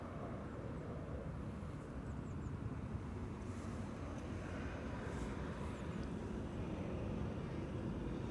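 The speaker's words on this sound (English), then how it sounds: "So Singapore Airlines, the A350 to Singapore, is now looking to be the second departure from 18 left" A Singapore Airlines A350 departing runway 18 left at Schiphol makes a faint, distant, steady jet roar that holds throughout.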